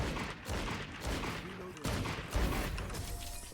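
Gunfire in a shooter video game comes as bursts of rapid shots and impacts over a dense, noisy game mix.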